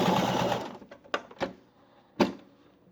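A sewing machine runs a short back stitch on a homemade fabric face mask, opening with a brief whirring burst and then a few short, separate clicks and thumps close by, with no voices.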